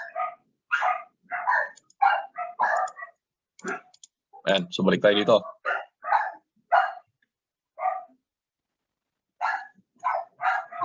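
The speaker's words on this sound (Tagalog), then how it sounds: "Magpasensya nyo na yung mga aso." Several dogs barking in repeated sharp yaps and bursts, close and loud, heard while a person talks over them in a home setting.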